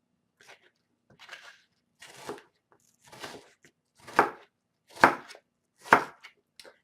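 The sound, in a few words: chopping an onion with a knife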